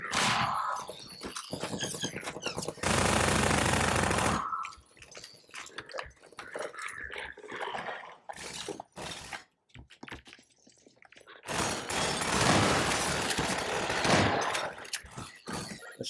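Gunfire in Half-Life 2, bursts of loud shots in two clusters separated by quieter game noise and scattered sharp clicks, with no talking.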